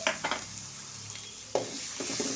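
Mustard seeds crackle in hot oil as four green chilies and a large onion go into the pan, giving a steady sizzle with sharp bursts of stirring and clatter near the start and again around the middle.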